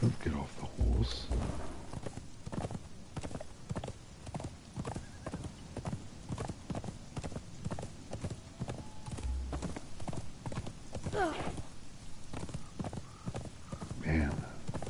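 In Conan Exiles, a horse's hooves clip-clop in a fast, continuous rhythm up close, with a whinny, rumbling thunder and rain behind, and someone speaking over it.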